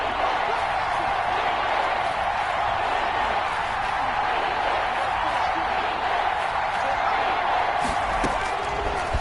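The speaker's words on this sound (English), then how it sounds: "The crowd getting into it as we come up on a big 3rd down." A football stadium crowd builds into a loud, steady roar ahead of a big third down, sustained throughout with a commentator's voice underneath.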